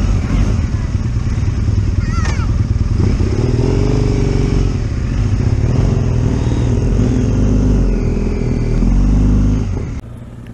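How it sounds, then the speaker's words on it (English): A BMW R 1250 RT and a Triumph T100 motorcycle ride off together, their engines a loud, steady close rumble with rising revs throughout, while a person talks over it. "So here we go, we're going to let Mo take the lead. I don't know how he rides"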